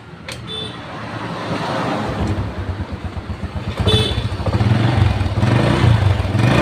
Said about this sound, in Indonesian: jadi ini udah halus mesinnya